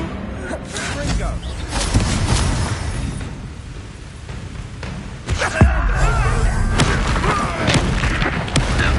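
Confringo fire spell blasts during Hogwarts Legacy combat, heavy booming explosions and thuds recurring through loud battle noise, with spoken voices over the action.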